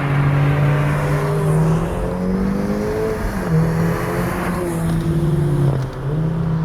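A 2018 Mercedes-AMG GLA 45 4MATIC in manual shift mode accelerates hard, its engine droning loud and steady with rising and falling pitch through the revs, heard close with no talking.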